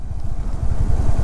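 A Honda CB350RS motorcycle rides along a Ladakh road, its engine giving a loud, steady low thumping rumble up close, with no voices.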